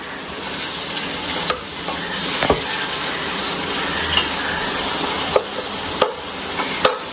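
Cinnamon and green chilies sautéing in a pan for a bachelor-style biryani make a loud, even sizzle close up, punctuated by several metallic clinks and scrapes of a spoon against the pan.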